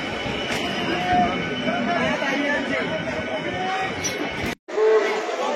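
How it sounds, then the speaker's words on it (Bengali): Large pilgrim crowd at the Sheoraphuli rail gate during the Tarakeswar Yatra on the third Monday of Shraban, a dense steady hubbub of many voices and outdoor bustle with a brief dropout near the end. "শেওড়াফুলি রেলগেটে এই মুহূর্তে দেখুন রেকর্ড ভিড়।"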